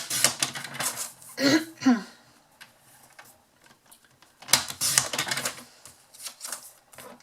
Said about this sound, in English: So I'm just going to trim this down. Around the edge of the die.